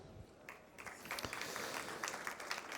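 An audience at a health summit event applauds with faint, distant clapping that builds into a steady patter of many hands.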